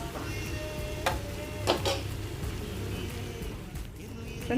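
Mashed elephant foot yam stirred into oil in a frying pan, a soft steady sizzle broken by a few sharp scraping clacks of a spoon against the pan.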